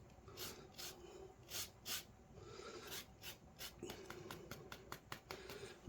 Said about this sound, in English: Just a couple of scrapes from half a lemon.